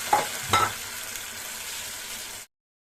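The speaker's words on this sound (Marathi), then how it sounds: "आले लसूण पेस्टला सोनेरी रंग आलेला आहे आता पालकची पेस्ट टाकूया" Spinach paste drops into ginger garlic paste frying in a pan, a couple of quick spattering bursts followed by an even, moderate sizzle that cuts off abruptly; no one speaks.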